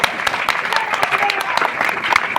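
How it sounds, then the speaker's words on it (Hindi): Loud audience applause at a community meeting in honour of an award winner, a dense continuous wash of clapping, with some voices mixed in underneath. "जबरदस्त तालियां।"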